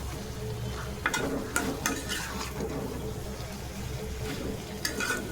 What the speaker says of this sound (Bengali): এখন একটু ভালো করে নেড়ে দিব।